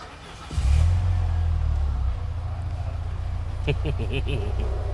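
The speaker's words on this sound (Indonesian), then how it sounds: "Ini kita nyalain dulu ya. Suara mesinnya kayak gimana? Tanpa digas." A Peugeot 405 engine starts and settles into a steady low idle without throttle, rumbling close by, with a faint chirping rattle on top and a voice briefly talking near the end.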